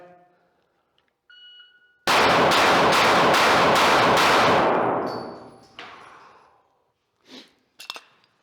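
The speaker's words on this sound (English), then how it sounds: "we're gonna be doing the same 6-shot course of fire with the GoGun USA Gas Pedal" A handgun fitted with a GoGun USA Gas Pedal fires six rapid, loud shots in a tight string, followed by a decaying ring and a few faint metallic clinks.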